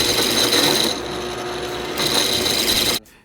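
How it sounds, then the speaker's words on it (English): A power drill bores into a wooden vase blank on a lathe, giving a loud, continuous close whir that dips in pitch midway, rises again, then cuts off abruptly. "You should also drill a little bit deeper than the lip of the glass tube"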